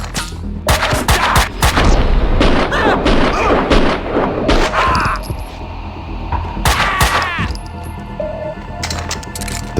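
Gunfire in the video game Max Payne 2, with rapid loud bursts of shots and booms running almost continuously, while voices shout over the firefight.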